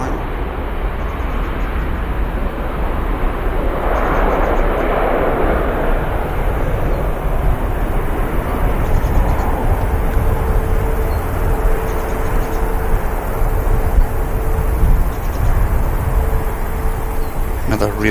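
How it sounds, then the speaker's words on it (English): A heavy Boeing Dreamliner on the runway spools up its jet engines for takeoff, a loud sustained roar with a steady whine, heard from outside the airport while a person talks over it. "Another real nice spool up on the heavy."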